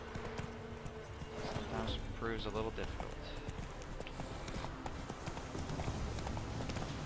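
Hooves of the horse Roach clip-clop in The Witcher 3: Wild Hunt, a steady rhythmic gait under a man's speech, with game ambience and a brief whinny-like tone partway through.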